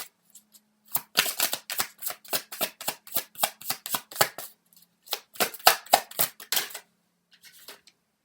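Tarot cards being shuffled and drawn at close range, crisp rapid bursts of riffling and snapping in two runs separated by a brief pause, ending with a few faint soft taps, with no voice over them.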